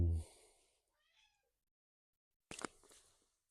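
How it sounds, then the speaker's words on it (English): A cat gives a loud, short meow at the start, then a faint mew, followed by a louder drawn-out meow after a quiet pause. "damn cat."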